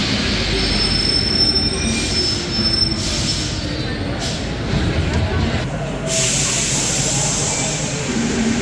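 A Paris Metro train's wheels squeal loudly and continuously on the rails, a sustained metallic screech over rumbling carriage noise that drops in pitch near the end.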